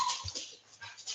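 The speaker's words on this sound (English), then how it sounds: "The little squeal of the dog?" A dog lets out a short, faint squeal and whimper, a couple of quick high yelps over a quiet background with no talking.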